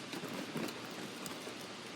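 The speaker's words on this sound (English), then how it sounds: "It's raining." Steady rain falling during a small thunderstorm, a soft continuous hiss of drops with no speech.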